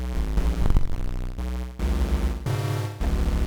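A Novation Circuit synthesizer preset plays in poly mode, with slightly distorted chord stabs that sound alone in a choppy rhythm, each block of stacked tones cutting off before the next.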